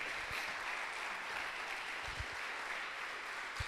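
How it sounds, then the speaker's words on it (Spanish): A church congregation applauds in a soft, distant, continuous wash of clapping, faint and steady throughout with a few low thumps. "Denle un aplauso a la palabra del Señor."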